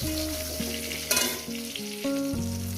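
Pieces of pointed gourd and potato fry in hot oil with a steady, close sizzle, overlaid by a stepping melodic background tune.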